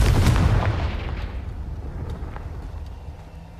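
Confringo spell blast in the video game Hogwarts Legacy, a single loud, close explosive boom that hits at once and then rumbles and fades over a few seconds.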